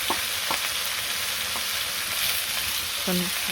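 Vegetables fry in a pan in a village kitchen, a constant loud sizzle and crackle with a few stirring clinks of a utensil against the pan.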